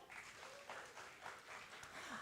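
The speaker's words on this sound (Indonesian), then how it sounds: "Boleh minta tepuk tangannya?" An audience at a radio singing contest semifinal claps steadily, a fairly faint, continuous patter of hands with a few louder swells.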